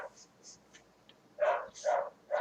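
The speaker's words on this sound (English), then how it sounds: "Your dog isn't happy, Jordan." A dog barks and whimpers a few times, short yips and whines coming in bursts, moderately near, with quiet gaps between them.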